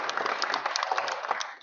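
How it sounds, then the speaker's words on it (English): Audience applause for a city mayor at a civic announcement, a steady wash of clapping at moderate level that thins toward the end, with faint voices mixed beneath. "Let's give our mayor a real big round of applause first and foremost."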